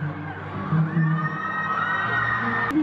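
Concert crowd at a show cheers and whoops steadily, a dense roar of many voices with a few higher shouts rising above it, loud and continuous throughout.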